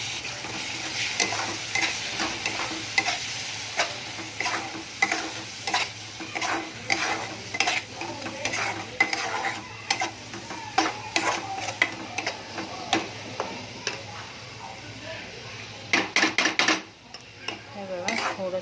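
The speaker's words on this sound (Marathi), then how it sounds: "आता ह्याला थोडा वेळ परतू द्यायचं" Chicken curry sautés with masala in a pan, giving a soft continuous sizzle under repeated scraping and clinking of a spoon against metal in an irregular rhythm, close and moderately loud, with no voices.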